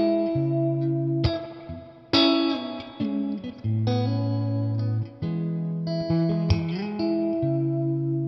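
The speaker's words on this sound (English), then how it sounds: "That amp reverb sounds so good." Clean electric guitar rings out sustained chords and single notes, each washed in a lush amp reverb tail, played alone and up close.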